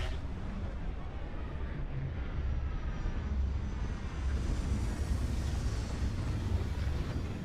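A spaceship landing in Starfield, with a steady, loud engine roar and rushing thrust that holds throughout, swelling slightly partway through.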